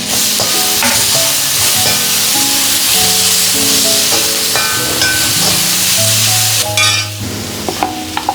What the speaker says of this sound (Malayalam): തക്കാളിയും കൂടി ഇട്ടിട്ട് നന്നായി വാട്ടിയെടുക്കാം.